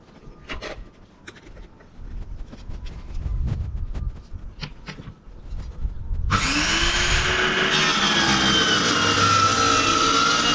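A power saw cuts along a marked pattern line in a VW Crafter van panel, starting loud and steady partway through after some quieter handling clicks and knocks, then whining continuously to the end.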